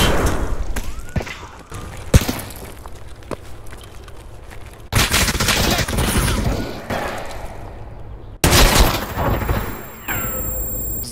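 Gunfire from a first-person shooter, Escape from Tarkov on the Reserve map with an ASh-12 rifle, comes in loud, dense bursts and sharp single reports across the whole stretch, with heavy impacts and mechanical clatter between them and no voices over it.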